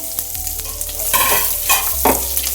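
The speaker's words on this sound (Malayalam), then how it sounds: "ബട്ടറിലോട്ട് നമുക്ക് ഗാർലിക് ആൻഡ് ചോപ്ഡ് ജിഞ്ചർ ഇട്ട് കൊടുക്കാം" Garlic and chopped ginger frying in melted butter in a pan, a steady close sizzle with stirring scrapes, rising into louder bursts of spitting near the middle and end.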